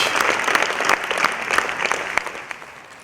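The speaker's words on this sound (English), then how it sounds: "Please join me giving a big round of applause for Brother Ramesh and Sister Raj" An audience at an education and CSR alumni event claps together in a steady round of applause that fades slightly toward the end, dense and fairly close.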